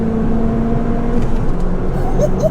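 A hybrid-turbo Ford Fiesta ST rated at 302 bhp pulls hard in second gear, its engine drone rising steadily as it climbs past 7,000 rpm, heard from inside the car with a few faint high chirps near the end.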